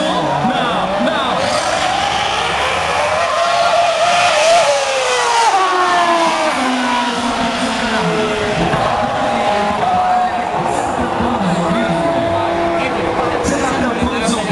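Race car engines rev and scream loudly with rising and falling pitch, an excited crowd and nearby talking mixed underneath throughout.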